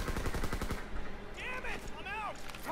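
Rapid gunfire from the World War II shooter Call of Duty WW2 in War mode, a fast run of shots in the first second, then game voices and radio chatter over a steady background.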